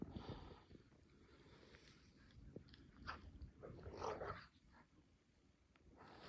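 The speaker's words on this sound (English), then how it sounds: "dogs are acting like idiots. They're playing zoomies." Farm dogs playing outdoors in winter, with low growls, scuffling and snorting bursts that rise and fall against quiet background noise, fairly faint and without talk.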